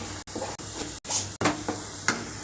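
Cowpea masala sautés in a little oil, bursts of sizzling and spatula scraping cut by brief silent gaps, close and fairly loud with no voices.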